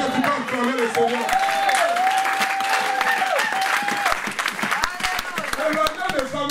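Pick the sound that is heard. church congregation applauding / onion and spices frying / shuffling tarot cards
church congregation applauding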